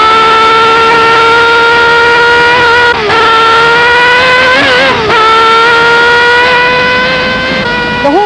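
A 1973 Formula 1 car screams through an onboard lap of the Nürburgring, engine very loud and close. The whine holds steady, dips briefly with gear changes, then climbs again under hard acceleration.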